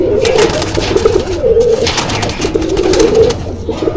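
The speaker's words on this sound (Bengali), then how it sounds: "এটা কি নর পায়রা?" Pigeons in a pigeon loft cooing, repeated low rolling coos in a steady rhythm, close and loud over a busy background of rustling, with no one talking.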